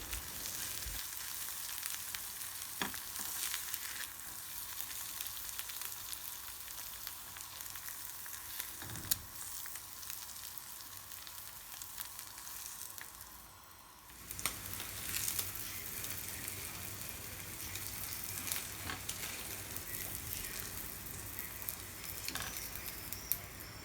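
Egg whites and yolks being stirred together and fried in a pan, giving a continuous close sizzle with occasional scraping stirs and a brief quieter dip midway, no talking.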